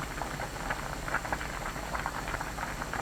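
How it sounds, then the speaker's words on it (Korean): Kimchi seaweed nurungji porridge bubbles in a pot over high heat, a soft, continuous blub and pop of thick boiling liquid with small irregular bursts, close and steady with no talking. "보글보글 끓으면 골고루 저어주세요"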